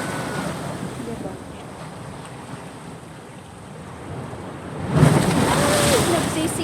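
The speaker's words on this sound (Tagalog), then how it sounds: "Lakas ng alon" Ocean waves crash and wash in continuously with wind noise, surging louder near the end as a wave breaks close by.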